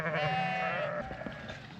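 A sheep bleats loudly and close by in an outdoor pasture, one long wavering cry running through the first second, followed by faint rustling and background noise.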